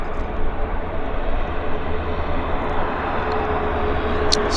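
A passenger airliner arriving at Vancouver Airport on a regular Thursday-morning flight, heard as a steady, loud, broad engine roar that holds throughout with no talking.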